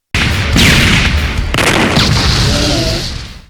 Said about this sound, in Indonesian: Ledakan dahsyat pun terjadi hingga menghancurkan makhluk itu lenyap tanpa jejak.